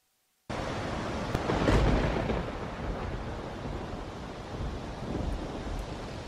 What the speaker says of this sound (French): Avec la tempête de sable.